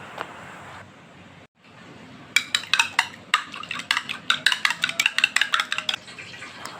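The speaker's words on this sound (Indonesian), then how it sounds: "siapkan telur, kocok lepas" A fork or whisk beats eggs rapidly in a bowl, a quick run of sharp rhythmic clinks after a short quieter stretch.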